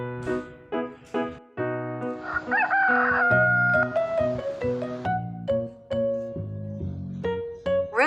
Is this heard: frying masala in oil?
no